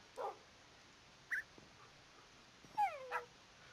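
Tamed dogs in Minecraft 1.12.1 giving a few short, high whimpers and whines, spaced apart with quiet gaps between them and a quick pair near the end.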